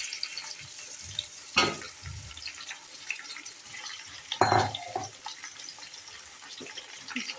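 Chicken frying in a pan makes a soft, steady sizzle with two louder bursts of hissing spatter as pieces are stirred or added, alongside faint clinks and a brief voice.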